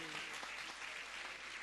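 Faint, steady applause from a crowd, a soft continuous patter of many hands clapping without a break.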